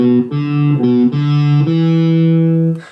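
An electric guitar plays a short run of sustained notes, each note ringing into the next, with a distorted, bright tone, ending on a held note.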